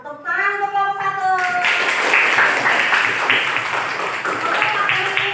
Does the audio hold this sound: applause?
yes